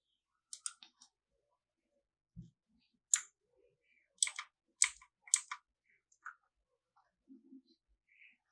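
A computer keyboard being typed on in short, sparse bursts of crisp clicks with pauses between, close and quiet against a silent background.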